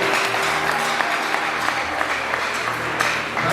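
Sustained applause from a church audience gathered in praise, dense and even throughout, with a few sharper individual claps standing out near the end.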